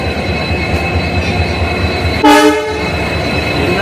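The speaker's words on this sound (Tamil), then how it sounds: "என்ன ஹாரன் தூக்கி வாரி போடுது." A loud diesel locomotive horn on a Trichy–Pudukkottai express train blasts once, about half a second long, over steady rumbling rail noise.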